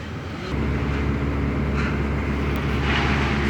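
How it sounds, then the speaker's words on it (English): A steady, loud mechanical drone from nearby tree work machinery kicks in abruptly and keeps roaring without pause, like an engine-driven machine running at constant speed. "Sorry for the noise, somebody's doing some tree work over here."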